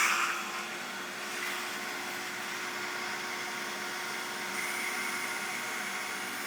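A vacuum pump runs steadily on BMW E39 brake parts during a vacuum test, a constant close whir with a fixed hum and broad hiss holding level throughout, with no talking.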